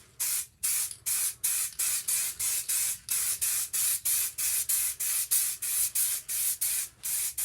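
An aerosol can sprays metallic paint through a stencil onto a gaming table for tabletop wargames. The rapid, even run of about twenty short, loud hissing bursts sounds close and has no talk over it.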